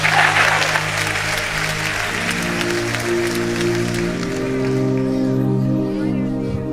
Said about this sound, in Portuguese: se você vai aplaudir, aplaude lá em cima da tua cabeça.